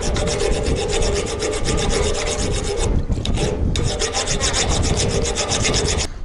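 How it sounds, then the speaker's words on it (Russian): Sanding the rudder blade of a yacht, a loud, close, continuous abrasive rasping with rhythmic strokes and a brief lighter pause midway. "Значит, надо шлифануть."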